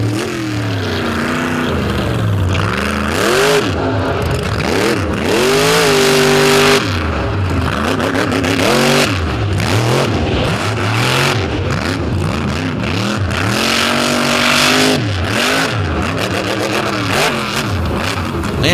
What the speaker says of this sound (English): he burns the tires up on the pavement out there